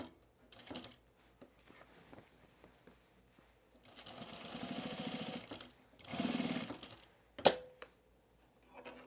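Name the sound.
sewing machine stitching thick pants fabric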